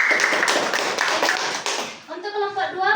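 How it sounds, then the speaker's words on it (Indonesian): A classroom audience claps for a presenting group in a micro-teaching session, a dense burst of hand claps that fades out, followed by a voice talking. "Kita berikan aplaus kepada kelompok"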